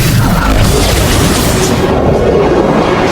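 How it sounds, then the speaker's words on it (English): A lightning strike effect in a Thor edit, a loud, dense rumbling crackle of thunder that fills the whole moment and stays heavy throughout, slightly thinning in the highs toward the end, with no speech. "That's the sound of lightning."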